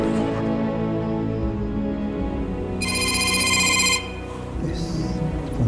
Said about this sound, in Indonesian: Telepon siapa nih?